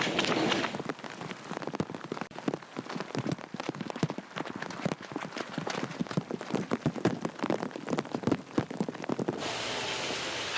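Steady rain patters on a surface along a mountain trail race course near Mount Fuji, with dense irregular drops hitting close by, continuous and moderately loud, easing briefly near the end.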